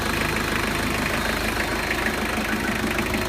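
A 1998 Mitsubishi Shogun with the later 4M40 2.8-litre turbodiesel idles steadily and close, a loud continuous diesel clatter with a faint knocking edge, heard alone.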